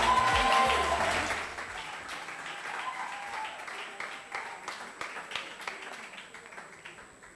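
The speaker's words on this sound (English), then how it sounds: "Let's clap for them now" Applause at a campus talent event, as a faculty group is called up. Voices and noise open the moment loudly, then give way to a quieter stretch of scattered, fading claps.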